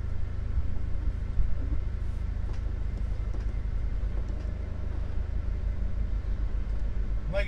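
A Tiffin Wayfarer 24 TW Class C diesel motorhome on the road, heard from inside the cabin as a steady, low, even rumble of road and engine noise, with a voice talking faintly at times.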